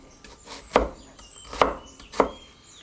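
A knife slicing across an onion held by its root on a cutting board, three crisp chopping taps spaced under a second apart, close and clear with no talking.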